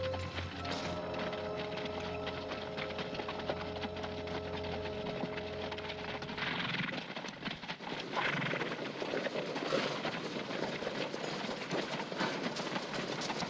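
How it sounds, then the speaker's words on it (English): Horses in a Wild West setting, heard as a steady ambient layer with soft hoof movement over a low rumbling drone that fades after about seven seconds, leaving a busier noisy background; no one speaks. "Horses."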